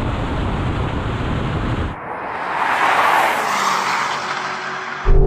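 A Lamborghini Urus and a BMW X5M, two high-performance SUVs, drag race: a loud, roaring engine rush with a tire-noise surge that dips briefly, then builds again and ends in a sharp burst.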